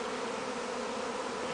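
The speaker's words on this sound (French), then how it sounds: "je pense qu'on entend bien les abeilles" A swarm of honey bees gathering into a cluster produces a dense, continuous buzzing drone, steady and fairly close, with no voices over it.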